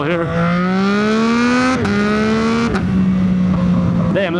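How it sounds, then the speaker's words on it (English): A loud motorcycle engine revving and accelerating up through the gears, a strong rising drone with two brief shift dips, steady and close with no talk over it. "Damn, this bike is so loud compared to the MT-07"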